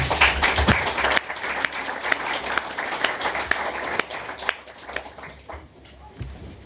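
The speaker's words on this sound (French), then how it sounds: "On peut les applaudir." At an interfaith celebration in Cologny, an assembly applauds three volunteers with steady clapping that fades gradually toward the end.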